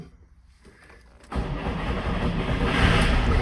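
A 1963 Trabant 600 with its choke pulled cranks briefly, then its small engine catches and settles into a loud, rough, buzzing idle that grows slightly stronger, heard close by without speech.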